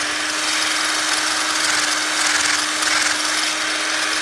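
A GBS 95 drill bit sharpener grinds a drill bit with a steady motor hum and a bright, hissing abrasive rasp that swells slightly as the bit is turned, close and continuous without speech.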